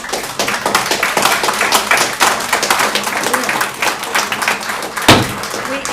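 A crowd at a school board meeting applauds steadily, with dense clapping throughout and one louder thump near the end.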